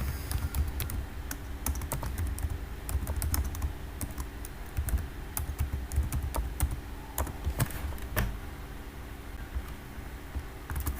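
Keys clatter on a computer keyboard in quick, irregular bursts of sharp taps with brief pauses, close and clear over a quiet room hum, no talking.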